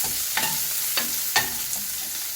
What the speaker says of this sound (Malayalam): ഇഞ്ചി വെളുത്തുള്ളി, കുറച്ച് സവാള. ഇത് മൂത്ത് വരണം.